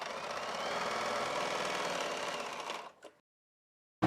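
Sewing machine stitching folded edges of poncho fabric, a steady continuous mechanical whirr for nearly three seconds, then stopping abruptly into silence.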